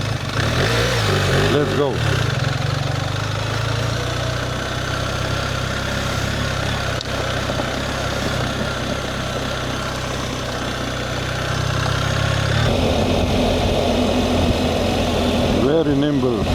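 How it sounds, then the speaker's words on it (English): Engine of a BMW R 1300 GS Adventure motorcycle running steadily at low revs with a constant rumble throughout, a short shift in tone near the end, while a rider speaks briefly over it. "But the engine is very loud"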